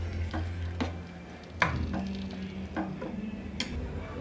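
Banana stem kootu is stirred with coriander leaves in a pan, a close run of soft scrapes and taps of the spoon against the metal, spaced out over a few seconds with no voices.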